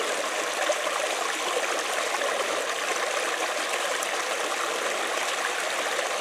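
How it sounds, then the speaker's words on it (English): Creek water trickles over the rocks of a handmade water feature near an off-grid cabin, a steady close babbling and splashing wash that continues evenly throughout with no voices. "So I grabbed a bunch of rocks and made a water feature."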